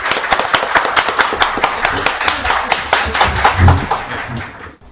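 Studio audience applause welcoming Kim Mi-suk, head of an insurance users' association, onto a Korean live broadcast panel: dense, steady clapping from a crowd sustained for about five seconds, fading out at the end.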